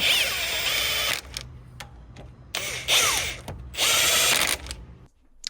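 Power ratchet spinning axle bolts in on a Ram 2500 rear axle during a seal replacement, three loud sustained whirring bursts separated by short gaps with small clicks, close by, no talk.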